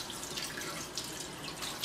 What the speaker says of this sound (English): I'll just wash it.